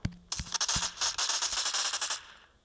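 Rapid automatic K12 gunfire in the online shooter MSO, a few single shots and then a sustained rattling burst of roughly two seconds, loud and close with no talk.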